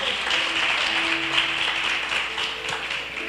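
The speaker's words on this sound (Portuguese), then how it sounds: "Você pode aplaudir ao Senhor com o seu melhor?" A church congregation at a Christmas service applauds steadily, a dense, even wash of clapping that lasts the whole stretch at moderate volume.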